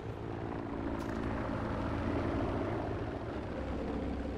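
A Mosquito aircraft engine drones steadily in the Battlefield 5 video game, a continuous loud propeller hum holding constant throughout with no speech.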